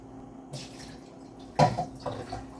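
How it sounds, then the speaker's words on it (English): About a cup of water is poured into a pan, with a few short bursts of splashing and gurgling separated by quiet gaps, heard nearby without talking. "I put about another cup of water in it."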